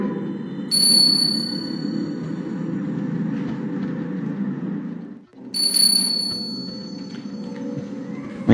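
A bell rings twice, with bright ringing tones at about one second and again near five and a half seconds, over a steady low rumbling background during a night-time ghost hunt.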